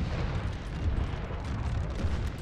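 Continuous heavy rumbling barrage of cannon fire in Napoleon: Total War, a dense, steady roar of overlapping booms with no clear gaps, loud and sustained throughout.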